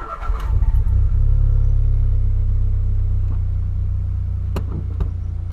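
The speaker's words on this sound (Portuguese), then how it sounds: "Ligo o carro." A car engine cranks and catches during a parking lesson, then settles into a steady, low, close idle rumble with no talking.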